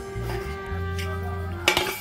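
A metal lid is set over rolled dough balls for Kolkata-style egg rolls: a single bright clink near the end of the clip over a steady low kitchen hum.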